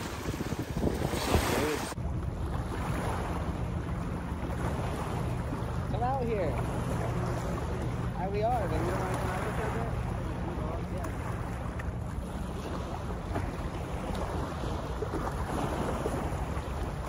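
Wind-driven waves lap steadily on a lake, with a constant roar of wind buffeting the microphone throughout and no clear voices.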